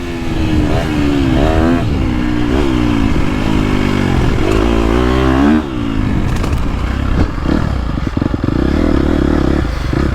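A 2022.5 KTM 250 Factory Edition four-stroke dirt bike on a GP track, revving hard and high with rapid rises and falls in pitch, close and loud, with some clatter and wind noise.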